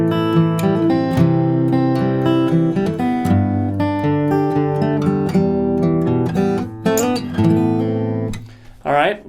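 Guitar playing the verse of a song, clear picked chords and single notes ringing close and steady, with a short vocal sound at the end.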